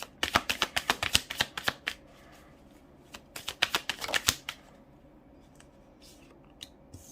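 Tarot cards shuffled by hand in two bursts of rapid riffling clicks, close and crisp, followed by quiet with a few faint taps.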